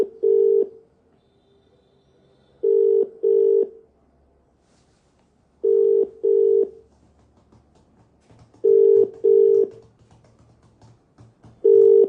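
Ringback tone of an outgoing phone call that goes unanswered: a steady low double-pulse ring repeats about every three seconds, five times in all, loud and clear with no talking.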